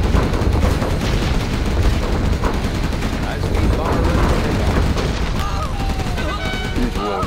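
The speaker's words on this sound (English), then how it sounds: "Gatling cannon is ready." Gatling cannon firing in Command & Conquer Generals Zero Hour: a dense, continuous roar of rapid shots blended with explosions and battle noise, loud throughout the whole stretch.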